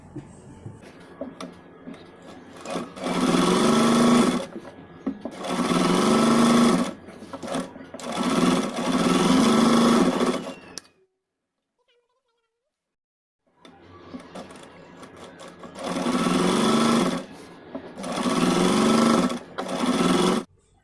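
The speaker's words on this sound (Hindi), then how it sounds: "नेक्स्ट मुझे इसके आर्म होल की शेप पे, दोनों आर्म होल पे सिलाई लगानी है।" Sewing machine stitching the armholes of a cotton crop top, with steady loud runs of rapid needle clatter in three bursts, a pause of near silence, then two more bursts.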